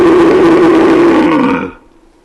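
A hunter imitating a red deer stag roar: one loud, close, drawn-out guttural bellow lasting under two seconds before cutting off.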